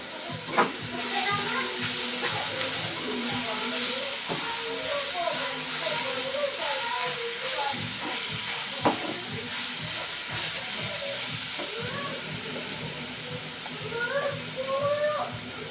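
Onions frying in a pan, a steady close sizzle and hiss with occasional stirring clatters throughout.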